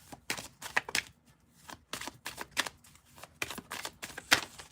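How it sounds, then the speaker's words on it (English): Tarot cards being shuffled by hand in a live reading, a run of quick riffling bursts and soft slaps repeating in uneven rhythm, close and moderately quiet with short pauses between. "We're going to keep shuffling them while you're asking your question."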